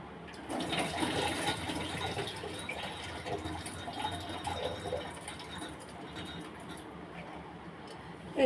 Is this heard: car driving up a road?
no